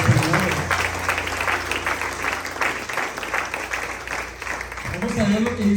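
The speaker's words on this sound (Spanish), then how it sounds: "Demos un aplauso al Rey de Reyes y Señor" A church congregation applauds, sustained dense clapping from many hands with a voice speaking over it near the start and end.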